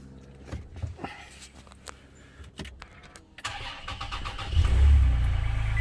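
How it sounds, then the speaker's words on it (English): Toyota Tacoma pickup engine with an electric fan kit starting up after some clicks and handling noises, then turning over and catching into a loud, steady idle close by. "spark up the truck"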